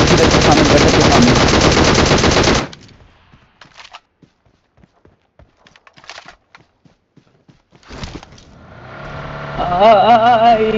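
A long, loud burst of automatic gunfire from a video game stops abruptly and is followed by faint scattered shots and clicks, then sounds return with a voice talking over them.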